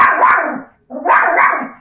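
Neighbours' dogs give two loud, close barks separated by a short gap, each one sharp and harsh, with no talking over them.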